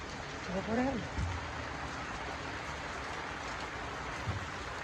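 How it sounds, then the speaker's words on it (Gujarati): Heavy monsoon rain pours down in a steady, dense hiss that fills the whole stretch, with a brief voice rising near the start. "વરસાદ જો આવું વાતાવરણ છે વરસાદ ચાલુ છે"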